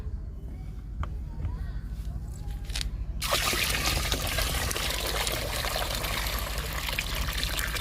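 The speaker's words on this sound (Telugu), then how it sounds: "ఈ పది లీటర్ల లిక్విడ్ పది లీటర్ల వాటర్లో కలుపుతున్నాను" Ten litres of liquid fertilizer pours in a steady, splashing stream into ten litres of water, starting abruptly after a few seconds of quieter sounds and continuing loud and close.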